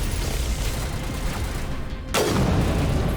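Gunfire in the video game Mass Effect, a dense continuous burst of shots filling the clip with a sharp louder volley near the end, no speech over it.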